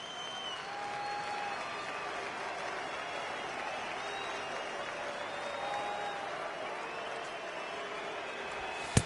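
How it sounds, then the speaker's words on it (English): Steady murmuring roar of a baseball stadium crowd in MLB The Show 19, a dense continuous wash of voices at even loudness with a few faint whistles, ending in a short sharp knock. "I can hear the crowd murmuring now, wondering if he hit him on purpose"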